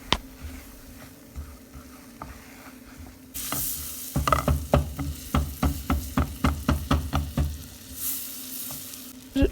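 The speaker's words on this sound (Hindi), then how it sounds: "अब ये बटर वाले पैन में मैं डालूँगी 2 टेबल स्पून मैदा, और अच्छे से इसको ना मैं भूनूँगी" Two tablespoons of flour roast in a butter-coated pan for white sauce pasta. A soft sizzle swells after a few seconds, then a quick run of rhythmic stirring scrapes follows, close and fairly loud, with no talk.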